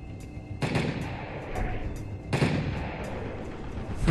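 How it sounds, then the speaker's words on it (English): Enemy gunfire in The Amazing Spider-Man video game cracks out in two loud bursts of rapid shots, with echoing reports trailing off between them. "everyone has a gun and they want to shoot me"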